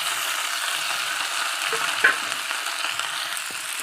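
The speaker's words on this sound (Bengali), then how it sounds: "মশলাটা আমি দিয়ে দিচ্ছি মশলাটা কষা" Spice paste frying in a pan makes a moderate, even sizzle, with light scraping and a couple of brief taps from stirring.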